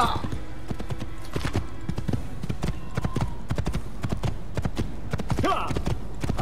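Rapid hoofbeats of a galloping horse in Assassin's Creed pound in a steady clip-clop rhythm, close and prominent, while a voice talks over the gameplay.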